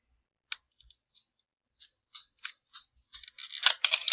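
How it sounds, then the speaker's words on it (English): Light, sparse clicks of a dog's claws tap on a hard floor, starting slowly and growing quicker and denser toward the end, skittering nearby. "That's just my dog's footprints, if you guys can hear that noise."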